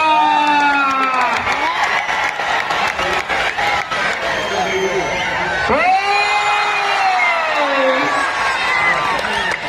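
Spectators at an outdoor wrestling bout clap, whoop and cheer in a loud, continuous crowd roar, with shouting voices and a commentator speaking over the noise throughout.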